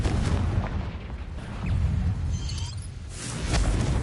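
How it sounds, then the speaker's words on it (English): The Confringo fire spell exploding in Hogwarts Legacy, heard as a heavy, sustained booming rumble with deep blasts swelling and fading over a few seconds, loud and with no voices. "Confringo!"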